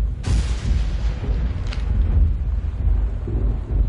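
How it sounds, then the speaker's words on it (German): Heavy thunderstorm in the video game Gone Home, a loud, continuous low rumble with a sharp broadband crack near the start, steady rain-and-wind roar throughout and no talking. "Das ist aber ein heftiges Gewitter."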